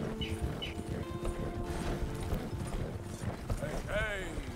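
Horse hooves clip-clop at a steady gallop in Red Dead Redemption 2, with the harness and gear clinking and a whistle-like call near the end; a voice talks over them.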